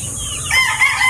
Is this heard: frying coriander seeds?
no